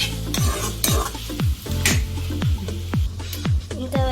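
A spoon stirs raw banana curry in a pan, scraping and clinking against the metal in repeated strokes about every half second over a steady sizzle, close and fairly loud.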